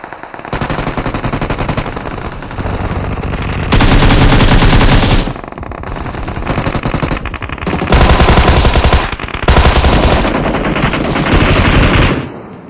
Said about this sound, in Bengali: এখানে দেখো সামনে থেকে ফায়ার সাউন্ড পায় না